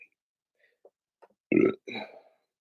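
A man burps twice in quick succession, a loud close belch followed by a shorter second one, after a few faint small noises in an otherwise quiet room.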